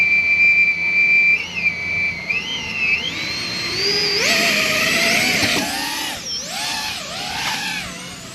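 A small FPV drone flown with a RadioMaster Pocket controller whines with high, shifting motor tones that rise and dip as the throttle changes, steady and fairly close with no talking.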